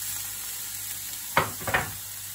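Carrots and green beans sizzle in a frying pan, a low steady background broken by two sharp, close bursts of hissing frying as the vegetables are stirred or tossed.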